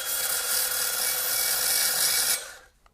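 A Milwaukee M12 FUEL cordless band file grinding metal, grinding out spot welds with a steady high abrasive whir that runs evenly for over two seconds, then stops abruptly and winds down.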